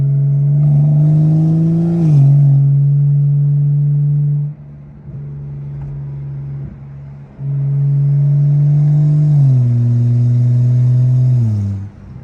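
A BMW G82 M4 accelerates hard twice, close and loud. Its engine drone climbs, then dips at each slightly slow gear change. A quieter coasting lull separates the two pulls, and the second pull ends with a drop in revs.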